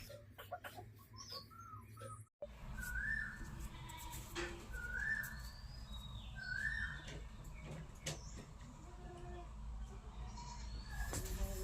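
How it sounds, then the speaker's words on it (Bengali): An Asian koel calls in spring in a village, repeating its rising whistled note about three times at a moderate distance over a low rumbling background, with other faint bird sounds. "এখন তো বসন্তকাল আর বসন্তকালে কোকিল ডাকে"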